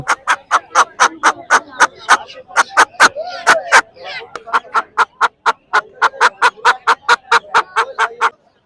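Tilki chickens cackle in rapid, steady repeated calls, loud and close, at Putia market in Narsingdi, with faint human chatter in the background.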